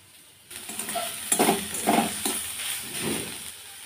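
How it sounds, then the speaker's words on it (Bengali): Mustard-stuffed ash gourd slices frying in hot oil, with a steady close sizzle that starts abruptly and is punctuated by several soft clinks and scrapes of a utensil, with no talk. "আর এই যে আমি চাকতলি ভাজবো এখন"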